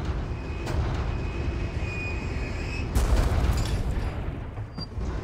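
Cannon fire and explosions in the game Resident Evil 4 Remake: a heavy rumbling boom surges midway through a constant low roar of battle, with a thin tonal whine and scattered crackles around it.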